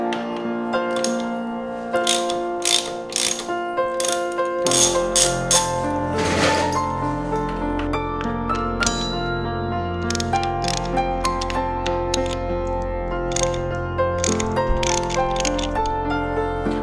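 Ratchet clicking repeatedly while removing the screws under the front forks of a Ducati Panigale V4, close and steady over a low mechanical hum, with bursts of metallic tool noise throughout.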